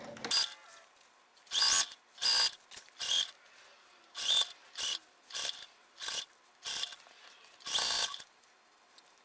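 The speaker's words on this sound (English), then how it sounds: "we're gonna remedy this by stitching over a few of our last stitches, and then we're gonna back stitch" A sewing machine back stitches through layered dish mats for a car seat cushion, running in short, sharp whirring bursts, about a dozen of them, separated by brief quiet gaps, close up with no speech.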